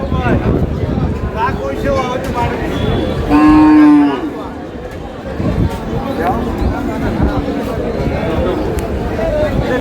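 Cattle at a crowded rural livestock market, with one loud close moo rising over constant nearby talk and crowd babble.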